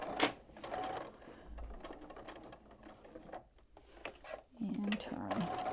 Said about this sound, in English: I'm going to just sew a V into one side of it.